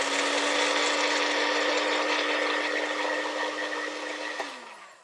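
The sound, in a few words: blender blending garlic for broccoli salad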